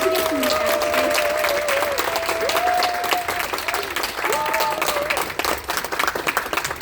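An audience at a Seoul office workers' seminar bursts into sustained, dense clapping to welcome a sponsor, with a few cheers and voices rising over the steady applause.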